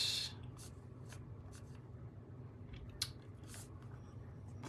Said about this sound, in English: And then I'm going to cut it